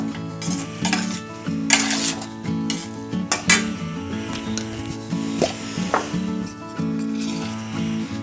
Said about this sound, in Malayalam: നമ്മൾ ഈ മുട്ടയും കൂടി ഇതിനകത്തിട്ടൊന്ന് നമുക്കൊന്ന് ഫ്രൈ ഒരു വഴറ്റിയെടുക്കാം.